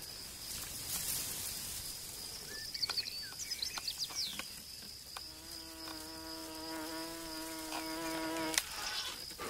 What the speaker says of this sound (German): gerade ist dort am Ast eine Fliege in Spinnennetz geflogen